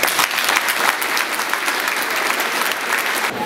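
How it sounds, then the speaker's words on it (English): Sustained audience applause fills a high school laptop presentation hall, a dense, steady wash of many hands clapping at even loudness from start to finish. "Please give them all a round of applause"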